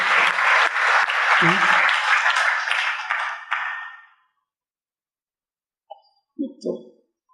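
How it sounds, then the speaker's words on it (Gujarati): An audience claps together at a talk on finding happiness: a dense, loud burst of applause that lasts about four seconds and then stops abruptly, followed by silence and a few short spoken sounds. "તાળી તો પાડીએ."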